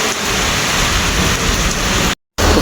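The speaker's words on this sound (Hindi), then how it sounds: "ए बारिश बरसती खड़ी है" Heavy stormy rain near a railway station in Sahiwal, a dense steady hiss of falling water that fills the whole stretch before a short cut near the end.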